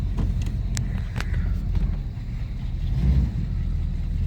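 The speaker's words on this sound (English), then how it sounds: "just wanted to take the car for a ride around the block quick" A 1984 Buick Regal driving around the block, a steady low engine rumble heard from inside the car with a few faint clicks and rattles over it.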